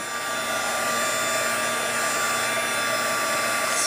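Heat tool blowing hot air to dry a mixed media art background, a loud, steady close whirring hiss with a constant motor hum and no talking.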